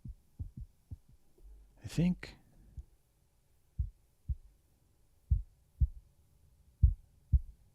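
An AI-generated heartbeat sound effect pulses in soft lub-dub pairs at a steady rhythm, interrupted early by a brief spoken interjection before the beats resume alone.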